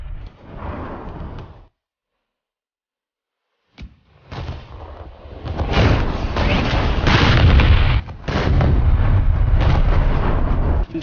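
Sturmtiger rocket launches and battleship gunfire in a tank-and-naval combat video game trade booming blasts, with a short burst, a silent gap, then a dense, sustained barrage of heavy explosions.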